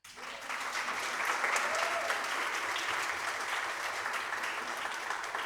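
An audience at a contemporary piano recital launch claps warmly, a steady, even wash of many hands that starts abruptly and carries on throughout at moderate loudness.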